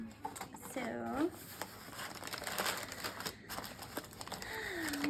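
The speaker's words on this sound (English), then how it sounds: "So I'm just taking a bunch of stuff out of this box." Crinkly packaging rustling as items are pulled out of a Kinder box, close and irregular, with a voice talking over it.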